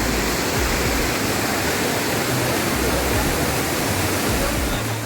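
Steady roaring rush of Dudhsagar Falls in Goa, a constant dense wall of falling water close by, loud and unbroken with no voices.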